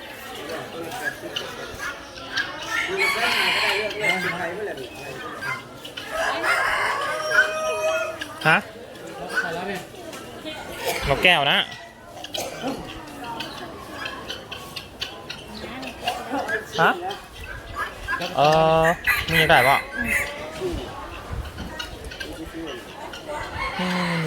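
A rooster crows and hens cluck among farmyard noise, with a person talking at times over the birds, close and lively.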